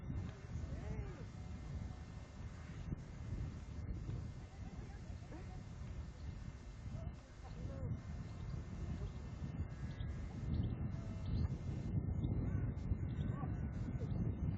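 Crows caw in scattered, fairly distant bursts over a restless outdoor background near parked horses and a trailer, with faint rustling and movement in between.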